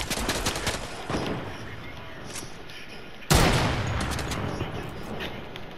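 Rapid bursts of gunfire from a Fortnite match, dense and loud at first, easing, then a sharp louder volley near the end that keeps rattling, with a player's voice occasionally underneath.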